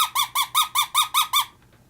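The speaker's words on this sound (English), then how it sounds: "You're just giving it a couple squeaks" A predator-hunting squeaker call for luring foxes sounds eight quick, evenly spaced squeaks, loud and close, then stops.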